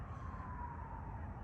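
An ambulance siren wails in the distance with a steady, slowly falling tone, faint under a constant low traffic rumble.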